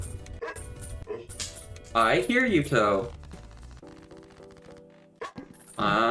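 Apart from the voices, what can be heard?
dog barking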